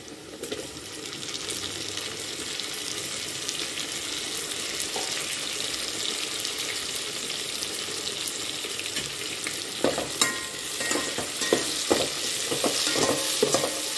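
Mint rice base frying in a pan, a continuous bright sizzle with faint stirring, then a burst of louder clattering scrapes and splatter as tomatoes go in.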